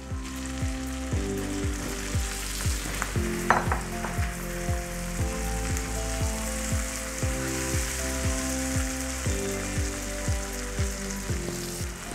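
Marinated soya chaap pieces sizzle in a pan, with steady frying hiss and rhythmic stirring or scraping clicks recurring throughout, close and continuous without talk.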